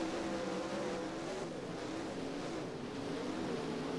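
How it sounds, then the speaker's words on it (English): A sport mod or modified race car engine in a dirt-track sim racing game holds a steady, droning note with no throttle lift into the corners, a continuous buzzing roar at a distance, alone. "It don't even sound like Copley's lifting going to the corners"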